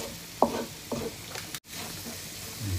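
Garlic, ginger and spices with chili and tomato frying slowly in a pan for Pathani namkeen gosht: two sharp spatula scrapes over a steady close sizzle, with a brief dropout near the end.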